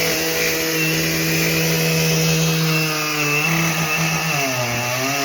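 A Husqvarna chainsaw with a smaller bar cuts through a log for firewood, its engine a loud, steady drone that dips and wavers in pitch as the chain bites into the wood near the end.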